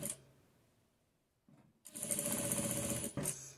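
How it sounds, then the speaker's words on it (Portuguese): A sewing machine stitches a small doll shoe, starting with a brief whir, then running in a steady, close, rapid mechanical buzz for over a second before stopping. "a gente costura"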